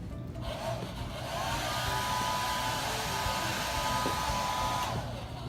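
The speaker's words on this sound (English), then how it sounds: "Have you seen this new thing called a hair dryer?" An electric hair dryer blows steadily with a whooshing rush of air and a thin motor whine, starting up and running close by without pause.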